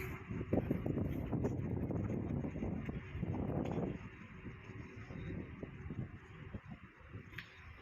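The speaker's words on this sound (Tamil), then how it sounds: "இப்போ காற்று செமக்கத்தான் இருக்குது" Gusty wind buffeting the microphone, loud rumbling for a few seconds before easing to a lighter, steady blow.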